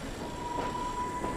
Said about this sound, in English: there's the train!